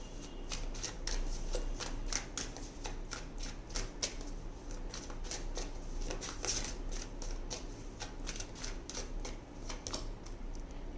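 Tarot cards being shuffled for a pick-a-card reading, a steady run of crisp riffling and flicking clicks that continues close-up throughout, with no talking.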